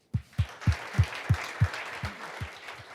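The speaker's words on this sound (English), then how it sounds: "Can we just have one more round of applause for all our great speakers?" Audience applause for the speakers at the AI In Accessibility 2019 conference, with close, evenly spaced loud claps over a softer spread of clapping, fading after about three seconds.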